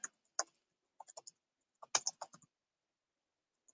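Quiet bursts of typing on a computer keyboard while a username is entered, with a few scattered key clicks followed by a short quick run of keystrokes and then silence, heard alone with no talking.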